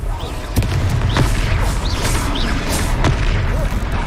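A Confringo fire spell blasts and explodes during a Hogwarts Legacy battle, heavy booming impacts landing over a dense, loud roar of combat effects with sharp cracks scattered throughout.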